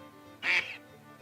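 A duck quacks once in the background, a short, fairly clear call rising briefly above quiet room tone, with faint talk around it.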